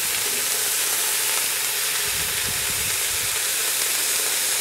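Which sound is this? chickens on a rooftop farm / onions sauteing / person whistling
onions sauteing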